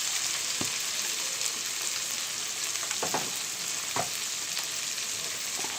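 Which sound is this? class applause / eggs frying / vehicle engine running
eggs frying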